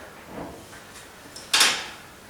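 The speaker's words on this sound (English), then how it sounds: "After 10 minutes, what you will do is you would open the door" A heavy combi oven door clicks and swings open with a short rattling thud, preceded by faint soft handling noises in a quiet room.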